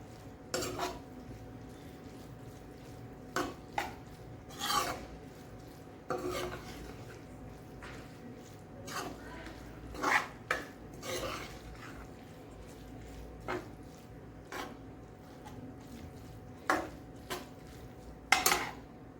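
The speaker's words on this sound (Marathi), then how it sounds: "आता आपण हे मिक्स करून घेणार आहोत। पूर्ण मिक्स करायचं।" Kurdai bhaji is stirred and mixed in a pan with a utensil, giving irregular scraping clinks and knocks of metal on the pan at close range over a quiet background, with no talking.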